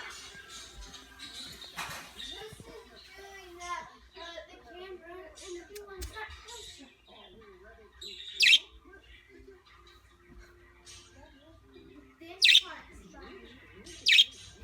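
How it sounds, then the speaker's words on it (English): Budgie chirps and tweets from a played recording of budgerigar sounds, with repeated short bright calls and a few sharper squawk bursts near the end, mixed with live bird chatter at moderate level under a busy, noisy background. "I'm playing bird sounds. If any of you want to check this out, it's called Budgie Sounds for 1 hour."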